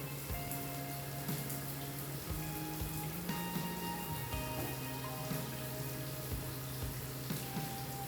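A newly tiled shower in an off-grid cabin runs steadily, its water spraying and pattering on the surface in an even, continuous hiss with faint clanks and hum in the background, and no one speaking.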